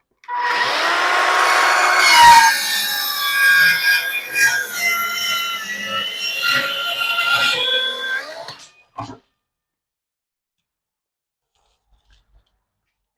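A power saw cuts through wood in a shed while cabinets are being fitted, a loud continuous grinding whine for about eight seconds before stopping abruptly, followed by near silence.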